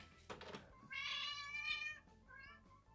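A cat gives a short call, then a long, warbling, yodel-like meow, and ends with a briefer second meow, all close and clear in a quiet room.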